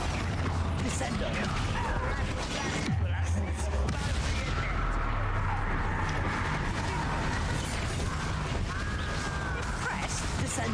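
A Descendo spell is cast in the video game Hogwarts Legacy amid a busy magical combat scene, with whooshing swells, heavy impacts and crashes layered over continuous game noise, and a voice talking over it.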